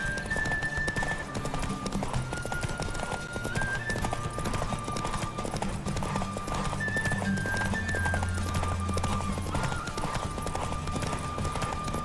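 Horse hooves clip-clop at a steady gallop in The Witcher 3, with occasional whinnies over a constant music score, the footfalls dense and continuous throughout.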